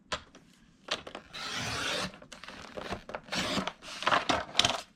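Paper cutter trimming a piece from an 11 by 14 cardboard box top: a few separate rasping, scraping strokes of the blade through card, close and fairly quiet, with short gaps between them and no voices.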